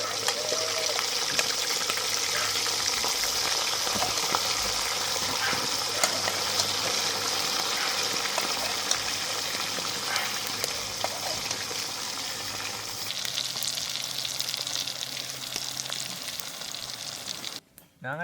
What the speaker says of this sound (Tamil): எங்களுக்கு எண்ணெய் நல்லா சூடாகிட்டு இப்போ நாங்கள் அவிச்சு எடுத்த இறைச்சியை பொரிச்சு எடுப்போம்.